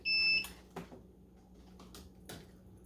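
A tumbler press timer for sublimating 20oz tumblers gives one short, piercing electronic beep at the start, followed by faint clicks and handling noises.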